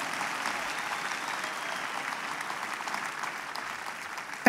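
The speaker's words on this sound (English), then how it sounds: "Shall we put our hands together and clap for the Lord?" A church congregation claps for the Lord, an even, sustained wash of applause from many hands, fairly distant and filling the sanctuary, with a brief voice at the very end.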